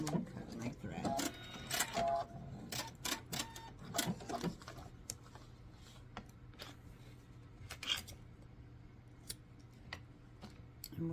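A sewing machine stitches a fabric travel pouch in short rattling bursts, running forward then backing up a few stitches, before falling quiet with only faint clicks and thread handling near the end.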